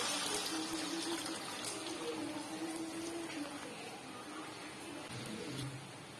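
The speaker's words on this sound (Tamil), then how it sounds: "இப்ப எண்ணெய் சூடாயிட்டு நம்ம 2 கரண்டி முட்டை எடுத்து உள்ள ஊற்றியோம்." Egg dosa batter hitting hot oil in a pan gives a steady loud sizzle and hiss that runs the whole time, close up, easing slightly toward the end.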